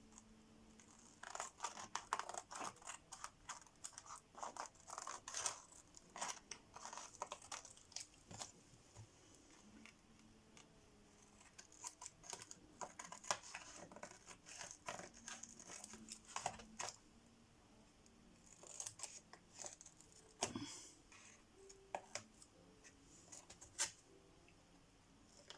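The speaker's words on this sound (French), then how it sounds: "on va prendre nos ciseaux. On va venir couper tout autour." Scissors snipping around the edge of a handmade card frame trimmed with tulle, a long run of close, quiet, irregular cuts and paper crinkles with no talking.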